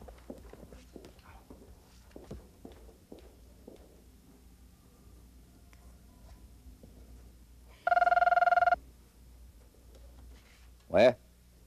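A telephone rings once at about eight seconds, a loud buzzy electronic ring, over faint room noise and scattered footsteps in a Taiwanese TV drama scene.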